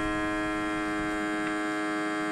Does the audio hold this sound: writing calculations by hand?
no